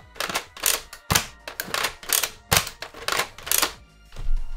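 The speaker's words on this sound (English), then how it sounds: "There's that click again from the smart ARs" A NERF Elite 2.0 FlipShots Flip-32 blaster with smart AR mechanisms gives a rapid series of sharp, close plastic clicks and clacks in an uneven rhythm, about ten in a row.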